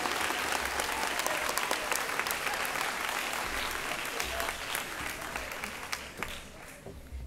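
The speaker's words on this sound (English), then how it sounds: "Can we give them all a round of applause?" An audience at a school awards ceremony claps steadily for several seconds, a dense, even wash of applause that fades slightly toward the end.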